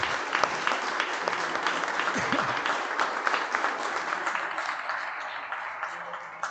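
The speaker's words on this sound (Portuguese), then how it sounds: "Pode aplaudir Jesus?" A church congregation applauds Jesus during a sermon, a dense, steady round of clapping from many hands that fills the room and fades slightly toward the end.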